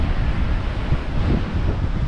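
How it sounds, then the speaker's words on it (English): Rough surf and gusting wind roar steadily at a beach, a dense, continuous wash of noise with wind buffeting the microphone and no clear voices. "The water looks pretty rough again today. Lots of waves."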